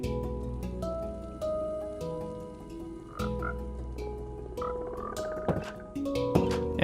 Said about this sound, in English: our froglight farm is already functional